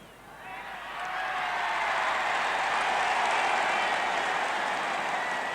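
A Gaelic football crowd at the 1966 All-Ireland Senior Football Final, Galway against Meath, swells into a loud, sustained cheer after a Galway point, rising within a second and holding at full volume.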